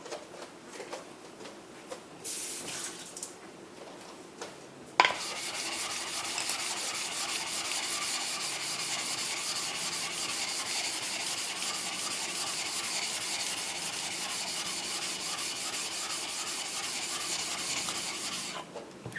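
A narrow single-bevel Yanagiba blade is drawn back and forth across a whetstone, producing a steady, close gritty rubbing that starts softly and becomes louder and continuous.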